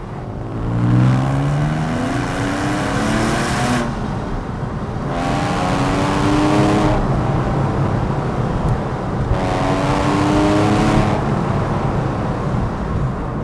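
A manual Porsche 911 997.1 Carrera S driven on an open road, its engine sweeping up through the revs several times with brief drops at each shift of the 6-speed gearbox, loud and close over constant road and wind noise.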